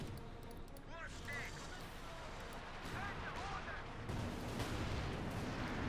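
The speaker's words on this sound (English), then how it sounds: "Panther shoots, misses the Cromwells." A Panther tank fires its cannon at Cromwell tanks in a Company of Heroes 2 1v1 match, distant booms and battle noise sounding under steady commentary, with a louder blast near the end.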